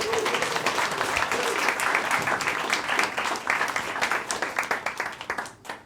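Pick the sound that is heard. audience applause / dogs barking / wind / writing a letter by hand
audience applause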